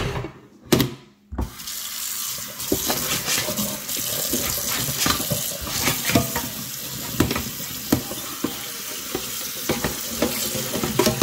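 Running tap water splashes and clatters over a kitchen range hood filter being washed in a sink, loud and close, with a few sharp knocks at the start followed by steady rushing water and scattered clunks.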